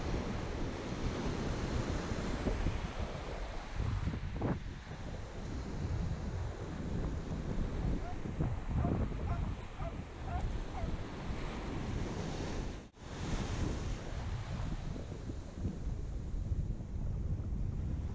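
Gentle ocean surf washing onto a beach under a small southwest swell, a steady broadband rush with wind buffeting the microphone throughout, no voices.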